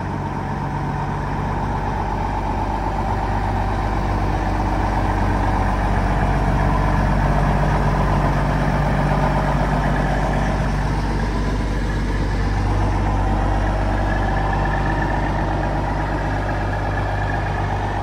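A 2019 Kenworth truck with a Cummins diesel engine, pulling a walking-floor trailer, idles with a steady low rumble and constant drone, loud and close, holding an even level throughout with no talking over it.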